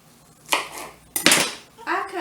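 A knife cuts through green onions on a board, leaving a few sharp chopping strikes with a brief scrape, close and fairly loud, and a short stretch of quiet between them.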